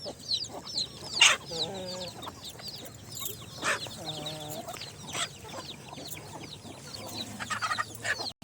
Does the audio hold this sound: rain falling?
no